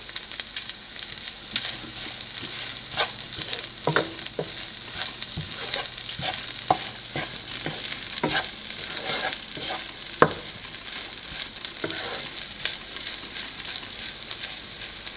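Drumstick and egg thoran stir-frying in a pan on a low flame, a steady soft sizzle with repeated light scraping and stirring clicks from the spoon against the pan, close and continuous with no talking.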